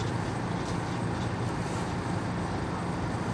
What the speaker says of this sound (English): from him revving that motor up.